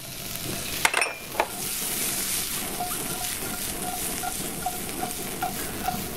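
Cherry tomatoes drop into a hot pan with garlic in a diner kitchen, landing with a splashy clatter before a steady close sizzle and frying hiss, dotted with faint stirring ticks.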